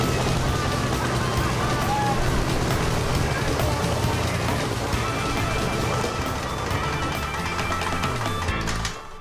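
An aircraft engine running with its propeller spinning, close and loud: a dense, steady roar that holds for about nine seconds, then cuts off sharply at the end.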